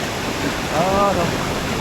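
Tad Kong waterfall in the rainy season roars with a constant, dense rush of water, and a brief voice rises over it in the middle.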